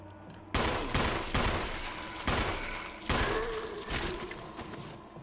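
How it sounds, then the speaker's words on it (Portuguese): Handgun shots fired at a zombie in Resident Evil HD Remaster, about six loud sharp reports spaced irregularly over a few seconds, each with a short decaying tail. "São 8 tiros pra matar o zumbi."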